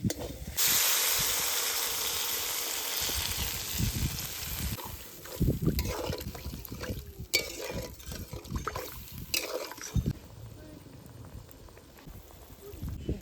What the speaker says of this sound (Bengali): জলে সুন্দর করে জাল উঠে গেছে দেখুন